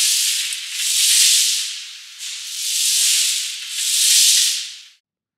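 Sweeping used as a hard sound effect for film: three long brushing strokes, each swelling and fading, close and bright, with no voices.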